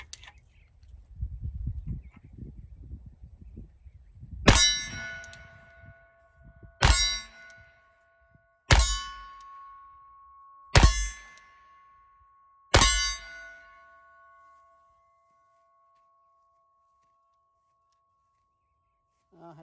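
An Uberti-made Schofield revolver in .45 Colt firing at an AR500 steel target: five sharp shots at spaced intervals, each followed by a bright ringing clang from the steel that decays slowly, with some low talk before.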